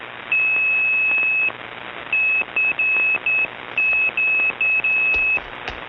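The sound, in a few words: radio sending call unit tone beeping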